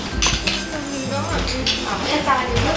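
Toy pots and pans clatter and clink in a hotel children's playroom, a busy run of close metallic knocks and rattles, with a child and adult faintly audible in the background.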